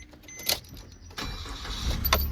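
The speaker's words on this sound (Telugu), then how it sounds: "ఇంజన్ని స్టార్ట్ చేసి ఇంజన్ కండిషన్ అయితే ఒకసారి చెక్ చేద్దాం" A 2014 Maruti Suzuki Swift VXI petrol engine cranks and fires up, a short start heard close by over a brief metallic jingle, then settling into a steady running rumble.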